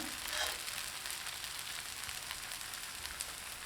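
An eggless vegetable omelette fries in oil in a pan, giving a faint, steady crackling sizzle throughout with no voices.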